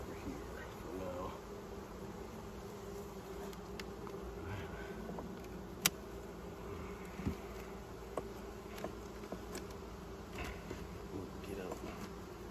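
Honeybees buzz in a steady, dense drone around an opened hive on a new homestead, with a few sharp knocks and clicks of frames being handled over the continuous hum.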